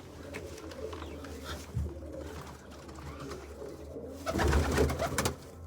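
Soft, low cooing of pigeons throughout, growing louder and fuller near the end, with light rustling in the background.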